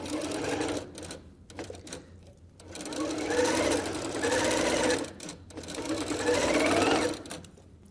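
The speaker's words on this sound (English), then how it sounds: "Now we are gonna sew a diagonal line down this guy." Sewing machine stitching a diagonal seam across pinned fabric, running in three sustained bursts separated by brief pauses, close and fairly loud with no talking.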